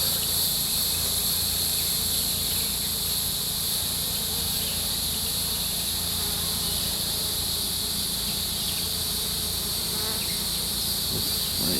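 Honey bees swarm during a hive transfer and honey harvest, a dense, continuous, close buzzing that stays loud and unbroken throughout.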